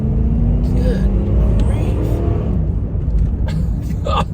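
A 1992 Cadillac Sedan Deville with a 4-speed automatic accelerating, its engine a loud, steady low rumble from inside the car, with a voice talking over it.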